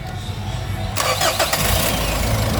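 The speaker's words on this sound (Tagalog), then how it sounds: "yung naririnig nyo na parang umahabol, na parang umuhuni, normal yan kasi sobrang lakas na ng starter motor" A Mitsubishi Montero Sport engine cranks with a strong starter motor and catches with a sudden burst of noise, then runs in a loud, steady rumble close by.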